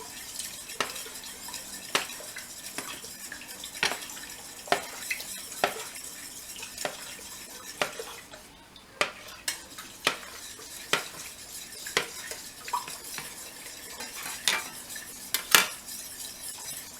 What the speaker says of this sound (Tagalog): At haluin natin mabuti ang powder sa cold water.